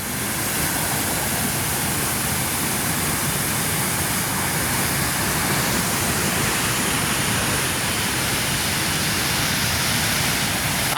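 Water roars through the open sluice gates of the overflowing Muthaiyankattu reservoir after heavy rain, each gate raised two to three feet. The sound is a loud, dense, unbroken rush that holds steady throughout, with no speech.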